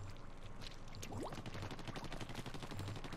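A continuous rapid stream of ink-weapon fire in Splatoon, with wet, spattering shots repeating at a fast, even rhythm under a steady game soundtrack.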